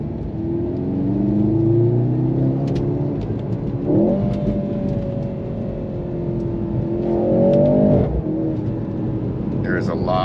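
A 2023 Mercedes-AMG C43 in Sport Plus mode accelerates with a steady engine drone that climbs in pitch through several gears, dropping at each shift, heard from inside the cabin with a faint high chime near the end.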